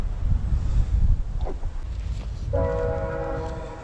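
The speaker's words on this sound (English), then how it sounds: "we could hear the trains" A heavy, rumbling train passes near a backcountry campsite at Lac Seul, with wind-like noise, and partway through a loud, sustained horn sounds and holds to the end.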